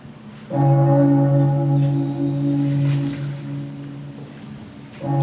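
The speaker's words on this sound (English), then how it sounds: "The bell invites me." A bell rings with a sustained, resonant tone that lingers and slowly fades, then is struck again at the end.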